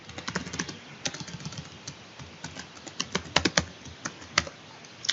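Fingers tap out a password on a computer keyboard, a quick irregular run of crisp clicks with a few louder keystrokes, close and with no talk.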